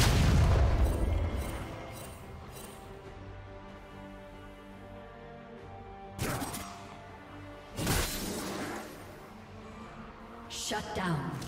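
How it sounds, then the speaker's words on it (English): League of Legends turret destruction on the red team's side: a loud crashing boom at the start, then layered game sounds and further bursts around the middle and end. "Red team's turret has been destroyed."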